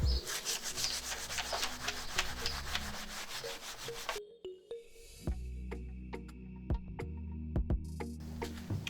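Wooden furniture coated in oven cleaner being scrubbed, with rapid rhythmic rasping strokes that stop halfway, followed by quieter scattered knocks and scrapes.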